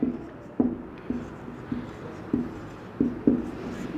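Chalk or marker writing on a classroom board during a biology lecture, with intermittent short taps and scrapes in an irregular rhythm at moderate level and a quiet room tone behind, without talk over the strokes.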